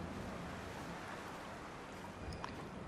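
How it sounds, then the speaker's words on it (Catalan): A river runs across a path in the Dear Esther video game, making a steady, broad rush of flowing water that fills the whole stretch at an even, moderate level with no break. "un riu pel mig del camí que ens va interceptant"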